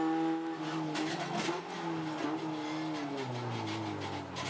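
SsangYong ute race car at Pukekohe circuit, engine roaring loudly and continuously with revving shifts as the rear tyres lock under braking during a downshift, close onboard sound.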